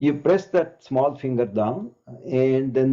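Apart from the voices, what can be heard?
No everyday noise stands out behind the speech.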